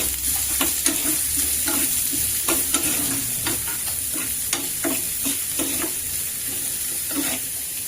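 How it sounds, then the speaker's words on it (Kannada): Onions fry in hot oil with a byadagi chili for a dahi tempering: a steady, close sizzling hiss broken by repeated scraping strokes of a spoon stirring the pan. "ಈರುಳ್ಳಿ ಹಾಕೊಂಡ್ಬಿಡಿ ಫ್ರೈ ಮಾಡ್ಕೊಳ್ಳಿ"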